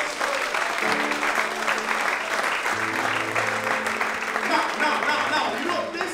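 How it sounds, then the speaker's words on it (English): A church congregation at an annual Bible church conference claps their hands for Jesus, a dense, steady round of clapping that carries throughout, with low sustained instrumental tones underneath. "Can you clap your hand for Jesus?"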